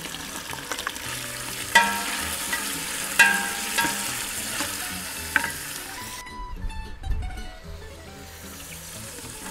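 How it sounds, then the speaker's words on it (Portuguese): Cabbage goes into a pot of Estoi-style country soup and is stirred, with wet sizzling, clattering stirs and a few knocks of a utensil against the pot, close by, then quieter simmering. "Vamos acrescentar o repolho."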